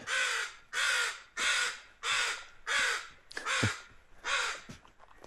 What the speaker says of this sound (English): Yes, crows, I'm sorry.